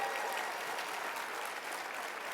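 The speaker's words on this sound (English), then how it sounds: "Please give them a round of applause" An audience at a congressional event gives a round of applause, a steady wash of clapping heard at moderate distance and fairly quiet, with no break.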